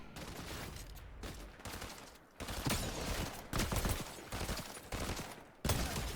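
Rapid bursts of gunfire from the video game Unreal, loud and sustained, sounding like repeated fusillades across a large city map with short gaps between volleys.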